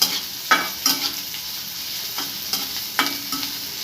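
Chopped green chillies tossed into a hot frying pan for potato momos, a steady light sizzle with a few sharp stirring scrapes and clinks spaced through it, close by with no talking.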